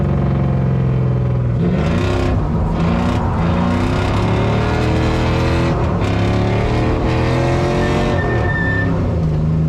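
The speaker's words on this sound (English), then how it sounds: "We'll just drift these on brakes and then get towed off track." An LS-swapped drift car drifting on a track, its V8 engine revving loud and close in rising and falling pulls, with tire squeal and skidding running continuously throughout.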